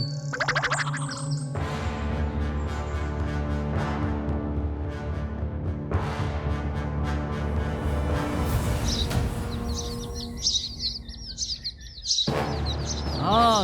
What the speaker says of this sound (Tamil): ஏதோ வித்தியாசமான பறவை தெரியுது.